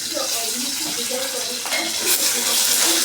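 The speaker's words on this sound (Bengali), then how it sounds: "করলার জন্য আমি কালো জিরে ফোড়ন দিচ্ছি, আর এদিকে একটু পেঁয়াজও দিয়ে দেবো।" Black cumin seeds and onion sizzling in hot oil in a pan as a tempering for bitter gourd, a steady loud crackling fry with occasional stirring scrapes throughout.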